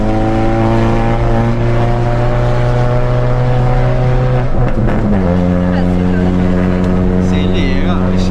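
A Chevrolet Astra with a straight-pipe exhaust and no muffler roars loudly up close at night, holding a steady drone before a sharp rev change midway, with voices briefly audible over it.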